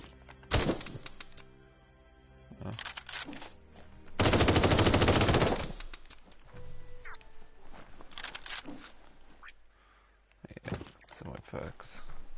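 A starter gun fires in the Biomutant video game. Scattered sharp shots lead up to a dense, loud burst of rapid fire midway, with more isolated hits afterward and someone talking between them.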